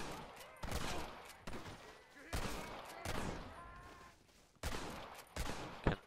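Rapid gunfire from the video game Red Dead Redemption, with repeated sharp bursts of shots in quick clusters and brief pauses between them, alongside someone talking.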